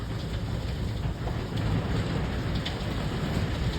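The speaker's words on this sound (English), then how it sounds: "Sounds like hail" Hail pelting down outside during a storm, a steady dense roar of hits with a faint ticking spread over the top, continuous and fairly loud throughout with no voices.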